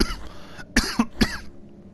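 Three short, sharp coughs come in quick succession, fairly close and loud against a quiet background, with a throaty rasp at the start before them.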